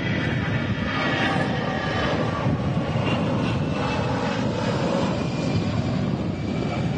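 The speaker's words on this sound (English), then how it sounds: "Ryanair diver coming in, says Ian" A Ryanair jet diverted to Manchester Airport comes in to land, giving a steady broad engine roar that holds at a constant level throughout, with no voices.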